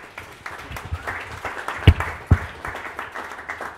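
Scattered audience applause for Manny at a printmaking panel, a thin patter of claps with a couple of sharper, louder claps standing out near the middle.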